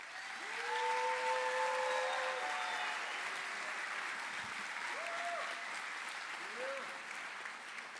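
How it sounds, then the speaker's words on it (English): Audience at a university graduation ceremony claps for a student quartet, steady and sustained applause from a large crowd, with faint tonal voices or cheers rising briefly above the clapping. "can we give a round of applause to our very talented student quartet"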